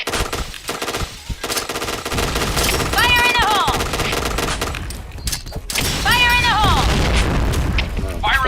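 Loud, continuous automatic gunfire and bursts in a video game, with booming shots and rising whistling tones, and voices talking over the barrage.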